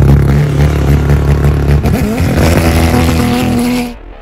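Porsche 911 GT3 race car, an IMSA racer, roaring past at high revs with a strong buzzing engine note that shifts pitch and then cuts away abruptly near the end.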